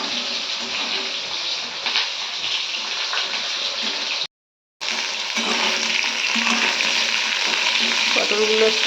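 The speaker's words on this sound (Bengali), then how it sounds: "পটলগুলোকে ভাজবো" Pointed gourd fries in very hot oil with a dense, loud, continuous sizzle and spatter, cut by a brief silent gap midway before the frying resumes just as strongly.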